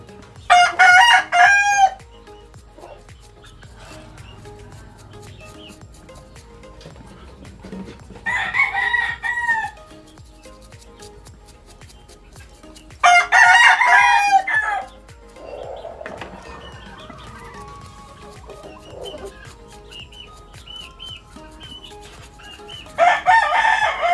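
A rooster crows four separate times, each a loud, drawn-out call spaced several seconds apart, over a quiet background with faint rubbing noises between them.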